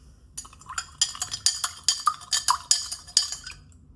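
A metal spoon clinks rhythmically against a glass, stirring a lemon drink in a steady series of bright, close taps that stop abruptly.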